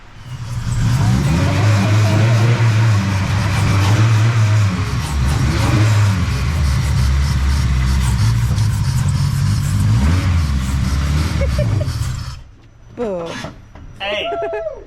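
A K24A-powered AWD wagon with a freshly installed fuel cell revs and drives under its own power, a loud, close engine drone that swells and holds for about twelve seconds, then cuts off as people begin talking.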